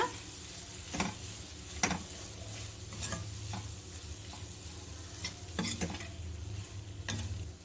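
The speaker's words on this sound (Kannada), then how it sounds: "ಮೊಟ್ಟೆನ ಸೇರಿಸ್ಕೊಂಡು ಇದ್ರ ಜೊತೆಗೆ ಒಂದ್ಸಲ ಮಿಕ್ಸ್ ಮಾಡ್ಕೊಳ್ಳೋಣ" Beaten egg frying with rice for egg fried rice crackles steadily in the pan while a spoon scrapes and stirs it in sharp repeated strokes, close by and without speech.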